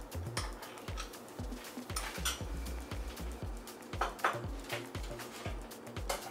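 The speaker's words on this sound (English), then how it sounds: "Whisk to completely dissolve your gelatin." A whisk beats gelatin into vanilla cream in a pan for blueberry panna cotta, making a steady run of quick metallic taps and scrapes against the pan, close and fairly quiet, with no talking.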